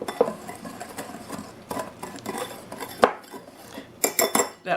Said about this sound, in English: I'm first going to mix this together.